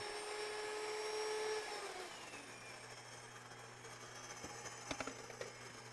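Electric Wonder Mill grain mill set to bread flour, its motor whirring steadily with a high whine that shifts as grain feeds in and grinds to flour, with a few faint clicks near the end.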